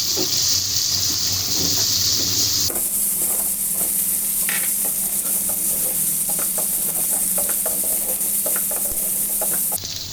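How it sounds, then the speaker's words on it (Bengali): Pointed gourd pieces fry with onion and ginger-garlic paste, giving a loud steady sizzle that briefly changes tone as the vegetables go in, with scattered stirring scrapes and clicks. "কিছুক্ষণ নেড়ে চেড়ে পটলগুলোকে ছেড়ে দিচ্ছি"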